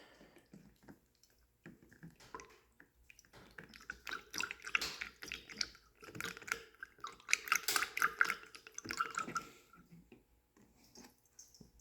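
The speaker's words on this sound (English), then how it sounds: "Why am I hearing water sounds? Lots of water sounds." Irregular water drips and trickling splashes in a garage, quiet clicks and wet patters that come and go in uneven bursts.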